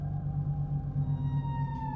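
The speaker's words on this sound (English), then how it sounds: "In 1997, scientists from NOAA recorded a sound in the deep Pacific." The Bloop, an unidentified low sound recorded by NOAA hydrophones in the deep Pacific Ocean, plays as a steady pulsing low rumble with faint rising tonal lines above, alone without talk.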